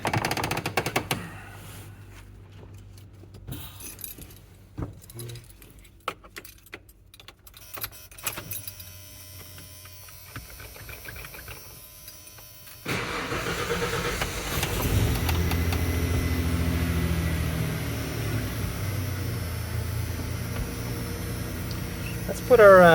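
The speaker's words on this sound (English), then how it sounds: "I'm going to start the truck now" Quiet clicks and rattles, then partway through an older Ford truck engine turns over and keeps running as a steady, close, continuous rumble.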